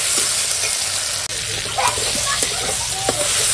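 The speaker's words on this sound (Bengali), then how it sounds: "কাঁচা লঙ্কা কুচি, আর দেবো আদা বাটা, দিয়ে একসঙ্গে ভালো করে কষিয়ে নেব" Chopped green chillies, ginger paste and chopped tomato sauté together in a pan, a close, steady sizzle broken by repeated scraping stirs of a spatula.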